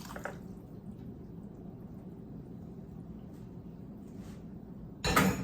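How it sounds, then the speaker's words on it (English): Dry macaroni pours into a pan with a brief, sharp rattling clatter near the end, after a stretch of quiet kitchen room noise. "And then you just pour your macaroni in there."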